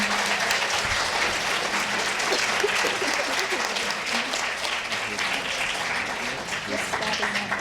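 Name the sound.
audience applauding the graduates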